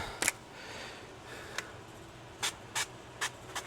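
Several short, sharp hissing bursts spaced irregularly, like quick pumps of a spray bottle, over a quiet low hum.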